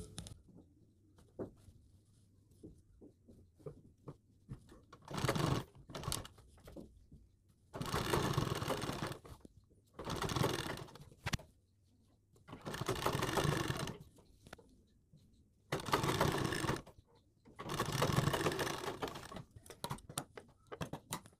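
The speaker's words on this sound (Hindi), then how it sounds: "यहाँ पर सिलाई पूरी करेंगे" A domestic sewing machine stitches lace along the neckline of a boat-neck blouse in several separate bursts of a few seconds each, close by, with quiet handling sounds between runs.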